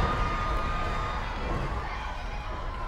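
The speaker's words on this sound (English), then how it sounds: "but listen to this crowd come alive." A crowd at an independent pro wrestling show (IWC Night of the Superstars) roars steadily with cheers, a dense, constant din from the arena with no distinct peaks.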